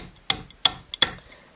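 Improvised tool, used in place of a hammer, striking a hole punch into a leather kendo kote during a repair: three sharp, close taps at an even pace, each followed by a brief ring.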